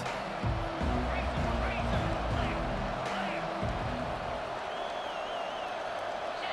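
A roaring crowd fills a video game football stadium, its steady, dense noise swelling under a commentator who talks over it throughout.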